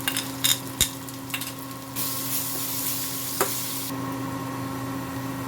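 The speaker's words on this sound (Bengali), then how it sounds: "এটার মধ্যে আদা আর লঙ্কা, কাঁচা লঙ্কা দুটো বেটে রেখেছিলাম, ওটা মিলিয়ে দিচ্ছি" Ginger and green chili paste stirred into a frying pan, with a steady background sizzle, a few sharp utensil clicks and scrapes near the start, and a brief louder hiss midway.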